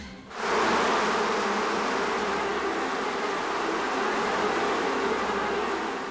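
A huge swarm of more than 300,000 live bees covering a man's body during a world record attempt drones in a dense, steady buzz that swells in abruptly and stays close and loud throughout.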